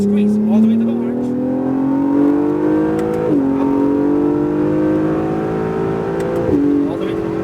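A 2017 Acura NSX accelerates hard on a race track, engine note climbing steadily in pitch through two upshifts with brief dips, loud and continuous from inside the car, with a voice talking over it.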